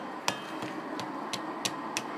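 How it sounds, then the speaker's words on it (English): A hammer strikes six times at a steady rhythm, each hit a sharp, ringing metallic tap close by over a low background hum, with no talk. "You get comfortable with the hammer."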